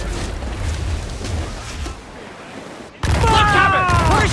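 Ship cannons firing in Assassin's Creed IV Black Flag during a naval battle: a loud burst of gunfire erupts after a rumbling stretch of sea and ship ambience, with crew voices shouting over it.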